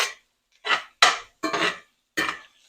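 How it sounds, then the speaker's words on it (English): A spoon scraping and clinking against a pan while stirring a patty melt mixture: five distinct, short scraping strokes in an uneven rhythm, close and fairly quiet, with silence between them. "We're going to give that a stir around."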